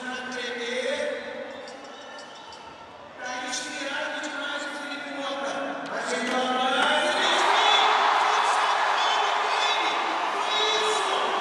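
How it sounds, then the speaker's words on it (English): Skateboarding contest crowd cheering for a big spin front board trick, cheers rising and growing louder toward the end beneath steady commentator talk. "The crowd loves the big spin front board"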